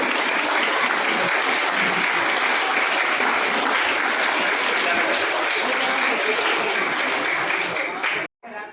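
A crowd at a school farewell ceremony gives long, sustained applause. The dense clapping fills the room evenly until it cuts off abruptly near the end.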